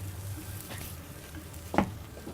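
Burger patties sizzle on a grill with a steady, moderate frying hiss and one brief louder pop or scrape partway through; no talking.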